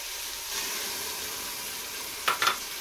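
Beef fries with garlic in a pan, a continuous hiss and sizzle, with two brief louder stirring scrapes near the end.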